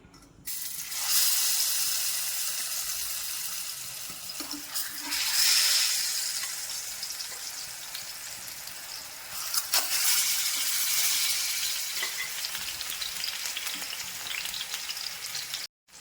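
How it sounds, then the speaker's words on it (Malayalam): Stuffed ripe bananas fry in hot coconut oil in a pan, giving a loud, close, continuous sizzle that surges in waves as pieces are added and turned, with no talk. "ഇനി പാൻ വെച്ച് വെളിച്ചെണ്ണ ഒഴിച്ച് ഇത് പൊരിച്ചെടുക്കാം."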